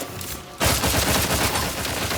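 Sustained automatic gunfire erupts suddenly in The Outer Worlds 2, a dense, loud fusillade of rapid shots that continues steadily to the end.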